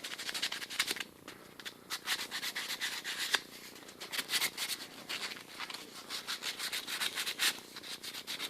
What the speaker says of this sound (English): It's a good thing to keep a piece of sandpaper in a parts washer. It's a good way to polish off debris